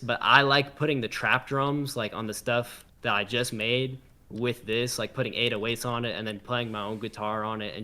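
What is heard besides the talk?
No distinct noise like a dog, phone or traffic.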